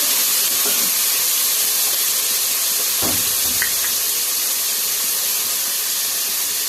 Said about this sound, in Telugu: పుదీనా కరేపాకు ఉల్లిగడ్డలు పచ్చిమిరపకాయలు హోల్ గరం మసాలా మంచిగా నూనెలో ఎంపుకొని